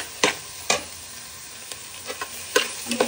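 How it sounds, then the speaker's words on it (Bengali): Carrot, papaya, cabbage and beetroot stir-fried with salt in a pan, a quiet sizzle under scattered sharp scraping stirs, about seven distinct strokes spaced irregularly. "আমি লবণটা দিয়ে ক্রমাগত একটু ভেজে নিচ্ছি"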